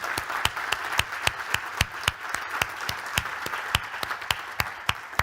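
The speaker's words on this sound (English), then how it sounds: "I think a round of applause to the panelists would be great." Audience applause for a stage panel at a food systems conference, steady and fairly close, with sharp individual claps standing out over a dense wash of clapping for about five seconds.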